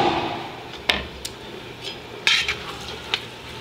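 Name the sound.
stirring meat, onions, peppers and garlic frying in a pan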